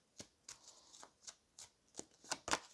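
Cards being shuffled in quick riffled bursts, about ten crisp flutters spaced irregularly over a few seconds, close and fairly quiet.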